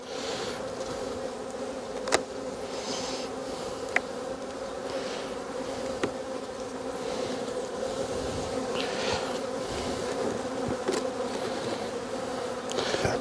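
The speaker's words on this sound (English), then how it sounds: "there's a very big box of bees" Dense, steady buzzing of many bees in a hive box fills the air continuously, with occasional louder individual bees passing close by.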